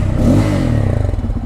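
A Bajaj Pulsar N250 motorcycle engine revs loud and close with a throaty, pulsing exhaust note that rises briefly and then settles.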